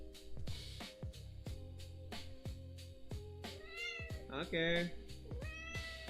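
A pet cat gives several meows that rise and fall, growing louder and more drawn out near the end, over game music with plucked tones and a person talking.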